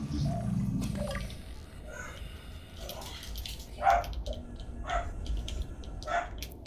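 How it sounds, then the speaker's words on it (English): An angry dog barks repeatedly at a passing motorbike, the barks coming at a steady pace, moderately distant and muffled under a noisy background. "Can you guys hear both the motorbike and my very angry dog at said motorbike?"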